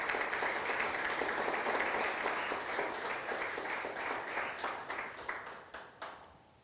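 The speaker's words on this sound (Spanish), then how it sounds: "Le levantas palmas al Señor." A congregation in church claps in praise, a full sustained wash of applause that gradually thins into scattered individual claps and dies away near the end.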